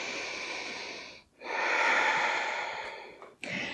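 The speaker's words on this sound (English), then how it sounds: "Just one deep inhale and exhale here." Deep breath drawn in and let out during a yoga low lunge, a long airy inhale broken by a short pause before an extended exhale, close and steady with no talking.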